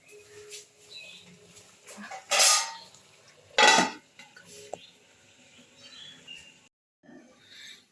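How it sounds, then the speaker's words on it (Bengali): A lid set on a cooking pan of cauliflower roast, with scattered metallic clinks and scrapes and two loud hissing bursts amid quieter kitchen clatter. "এবার একটু এর মধ্যে ঢাকা দিয়ে দেবো।"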